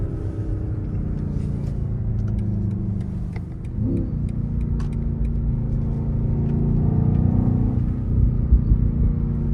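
A BMW XM accelerates hard, its deep exhaust rumbling steadily and swelling louder toward the end, with faint crackles over the low engine drone.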